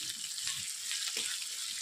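Ginger garlic paste frying in a pan while being stirred, a steady bright hiss with soft stirring scrapes underneath, close but moderately quiet, no voices.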